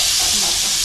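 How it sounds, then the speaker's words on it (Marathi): A generous lump of butter melting and sizzling in a hot pan on a home stove, a brief, loud, bright hiss of frying heard close up with no break. "आता पॅन मध्ये मस्का टाकते."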